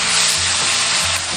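Minced garlic and chili rings frying in cooking oil and lard for garlic crayfish, a dense, loud, continuous sizzle with faint stirring scrapes underneath.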